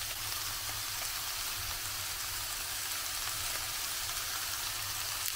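Tomato paste fries in a small amount of oil in a pan, giving a soft, steady crackling sizzle that runs evenly throughout.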